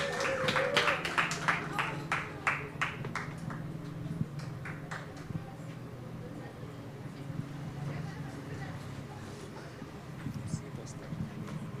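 Clapping rises from an open mic audience at a writers' gathering in Kigali, Rwanda, crisp and fairly close for the first few seconds before thinning to scattered claps under voices and room noise.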